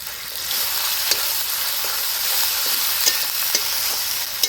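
Ginger, chili and cumin pastes fry in a pan with a steady sizzle, broken by a few light scrapes and taps as they are stirred, with no voices.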